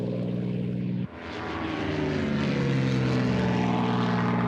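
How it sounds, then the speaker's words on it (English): A WWII Mustang fighter, an early model with a General Motors engine, drones past at speed. Its propeller engine holds a loud, steady harmonic roar with one brief dip near the start. "soon Mustang fighters took to the skies at speeds approaching 400 miles an hour"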